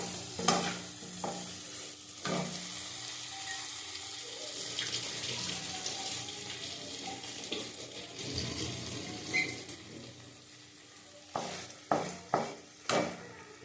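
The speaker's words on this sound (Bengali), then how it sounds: "একটু এটা ভেজে নিই" Frying in a pan, a soft continuous sizzle with stirring scrapes and a run of sharp utensil knocks near the end, close and quiet, with no talking.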